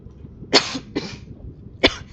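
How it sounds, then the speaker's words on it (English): A person coughs three times, two quick coughs close together followed by a third after a short pause, close and fairly loud. "I'm coughing."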